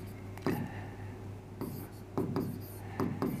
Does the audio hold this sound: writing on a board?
yes